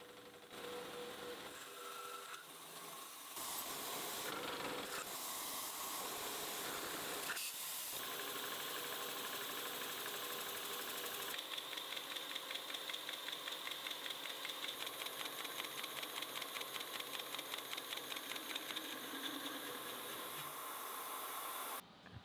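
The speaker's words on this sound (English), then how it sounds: "I'll use the boring head for most of this, leaving the bottom cleanup pass for the facing head" A boring head cuts a deep counterbore on a machine. Steady machine hum and cutting hiss shift abruptly in places, then settle into a rapid, evenly repeating chatter that runs until the end.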